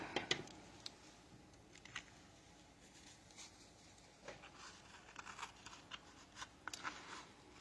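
Scissors snip fabric scraps for quilting in short, faint cuts, with light rustling of cloth between snips in a quiet room.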